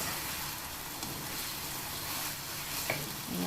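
Broccoli with beef and tofu sizzles steadily in a hot pan as a low, even hiss, with a faint clink of a utensil near the end and no talking.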